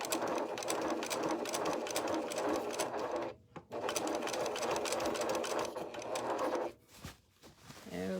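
A sewing machine stitches a seam on jeans in fast, dense bursts, stopping briefly twice before starting again, close and clear with light handling noise in the pauses.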